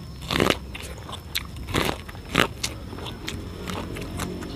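Young coconut rujak with purple corn, sweet and spicy, is bitten and chewed up close, giving several sharp, crisp crunches followed by softer chewing and crackling.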